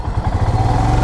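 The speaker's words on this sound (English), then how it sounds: "And the exhaust note is pretty decent. You're getting that." A Royal Enfield Himalayan motorcycle's exhaust gives a loud, close, low thumping putter at a steady idle-to-cruise rhythm, heard alone.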